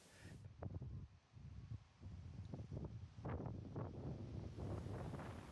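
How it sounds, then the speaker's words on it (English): Strong desert wind rushes and buffets the microphone in continuous, rumbling gusts that swell and ease, blowing dust across open country near Cameron Corner in Sturt National Park. "it doesn't look like this wind is giving up anytime soon. It seems to be getting worse."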